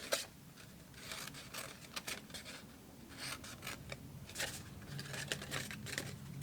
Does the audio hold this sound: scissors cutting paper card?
yes